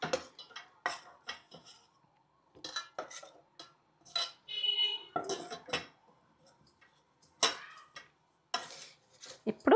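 A spoon stirring milk and cornflour together in a bowl, giving irregular clinks and scrapes in short bursts separated by quiet gaps, close by.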